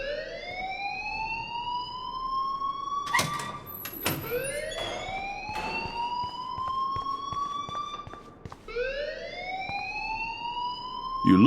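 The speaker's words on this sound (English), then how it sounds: "please turn off that alarm since that's your job" A school fire alarm in the video game Life is Strange wails in repeated rising siren sweeps, loud and continuous, with brief clanks and thuds in between and no talking.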